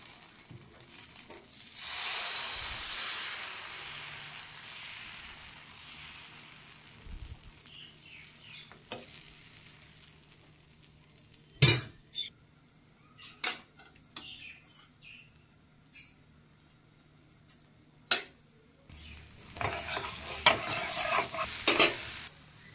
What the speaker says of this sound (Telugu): రాగి పిండి, గోధుమ పిండి కలిపిన పిండితో నేను దోశ వేసుకుంటున్నాను.